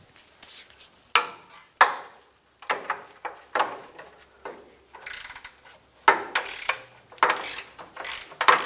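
A ratchet wrench works loose a bolt on the sway bar bracket of a 2000-2006 Toyota Tundra, giving bursts of close, dry clicking separated by short pauses.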